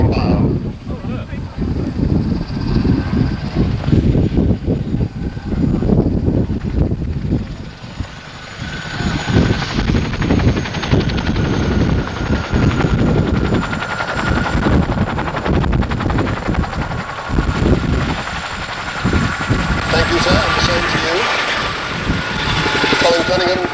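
A large helicopter weighing about 50,000 pounds flies through the display area at the RAF Honington airshow in 1992, its loud rhythmic rotor thudding and engine roar rising and falling as it passes close by, buffeted by wind noise.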